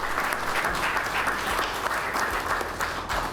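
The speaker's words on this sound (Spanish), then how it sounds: "Un aplauso para ellos, por favor." An audience at a debate event applauds in a steady, moderately loud wash of clapping that lasts the whole moment.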